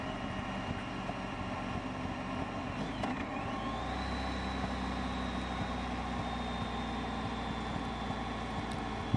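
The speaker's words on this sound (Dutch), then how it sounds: "Maar je hoort het aan mijn remmen op de motor." Motorcycle engine braking on a steep mountain descent in Austria, a steady low engine drone with a rising whine that settles into a held tone, continuous and moderately close with no talk.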